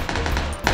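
Gunfire in PUBG: a rapid, loud burst of automatic shots fired nearby, running continuously for most of the moment before a brief dip and a final sharp report.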